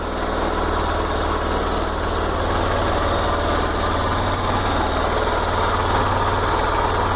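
A motorcycle engine idles just after starting, a steady low rumbling drone with an even pulsing beat, loud and close throughout.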